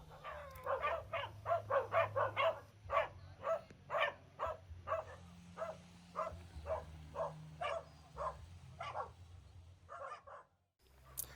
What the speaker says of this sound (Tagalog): sobrang napakaraming aso